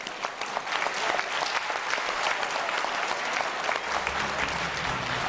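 Sustained audience applause fills a hall at a Bulgarian sports awards ceremony, dense steady clapping held at an even level from start to finish.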